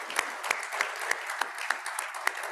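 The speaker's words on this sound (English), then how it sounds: "Please give them a round of applause" An audience claps steadily for a couple of seconds, a dense patter of hands with a few sharper individual claps standing out, at a Kiwanis club meeting.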